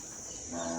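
Cattle at a cow shelter by a temple give a low moo that swells toward the end of a brief moment, set against steady outdoor background noise.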